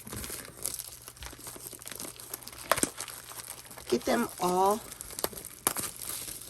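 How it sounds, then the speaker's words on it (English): OPC hockey hobby card packs rustle and crinkle as they are shuffled by hand, bursts of crackling plastic foil close to the microphone while someone talks over it. "go ahead and mix the packs around"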